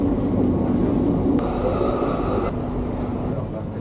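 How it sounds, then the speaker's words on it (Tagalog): Steady rumble of a moving passenger train heard from inside the carriage, with broadband rolling noise and a faint tonal hum, continuous throughout. "So, ayan ba, dito na tayo sa train."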